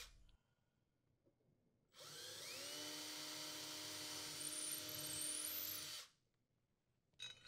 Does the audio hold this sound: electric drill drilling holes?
yes